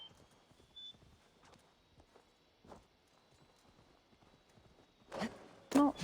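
Mount in Assassin's Creed Valhalla trotting along, soft rhythmic hoof clops fairly faint and near, followed by a few louder thuds at the end.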